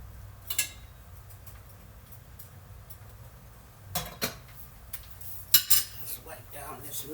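A spoon scrapes and clinks against a pot of sweet peas warming on the stove, a few separate metallic knocks spread out over a quiet kitchen background.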